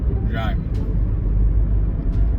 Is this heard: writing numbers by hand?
no